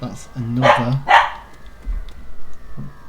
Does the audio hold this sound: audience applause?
no